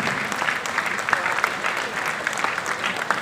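An audience claps at a public event, a steady, moderately loud patter of many hands that continues throughout with a faint crowd murmur beneath.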